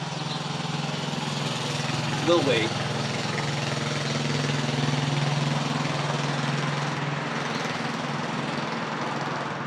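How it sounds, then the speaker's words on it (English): A lawnmower engine drones steadily nearby throughout, holding a constant mid-pitched hum as it passes, with a brief short remark spoken over it. "somebody's coming through in a lawnmower."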